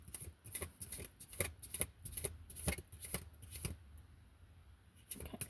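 A deck of cards riffle-shuffled close up, several quick fluttering bursts in a row, then a short pause and one more riffle.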